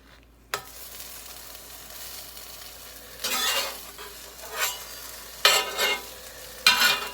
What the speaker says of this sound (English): You'll hear it sizzle though when I flip it.